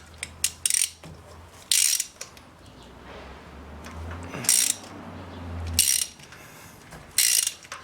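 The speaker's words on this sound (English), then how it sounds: "So there is the spark plug, and all I'm gonna do is pull it on out." A spark plug worked loose and pulled from a Ford Edge engine with a ratchet, heard as short, close bursts of ratcheting clicks separated by quieter pauses.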